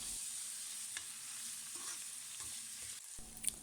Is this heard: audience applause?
no